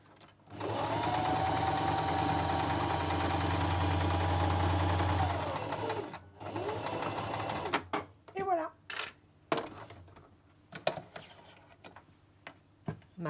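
Sewing machine stitching the hem of a folded fabric Christmas bag: a steady, loud continuous whirr for about five seconds, then a shorter run, followed by scattered handling clatter and brief voice sounds.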